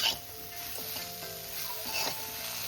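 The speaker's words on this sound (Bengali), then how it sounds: "এবার আমি বেগুনটা হালকা করে ভেজে নিচ্ছি" Eggplant fries lightly in a small amount of oil in a pan, making a soft, continuous sizzle. Occasional stirring scrapes come through at low volume.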